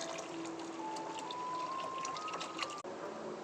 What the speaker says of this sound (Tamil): புளி கரைச்ச தண்ணி ஊற்றிக்கலாம்